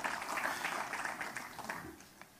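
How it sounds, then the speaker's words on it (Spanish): A congregation at a Christian family church service applauds, a soft, fairly distant wash of clapping that stays even at first and then gradually tapers off toward the end. "Se la subieron, dense un aplauso"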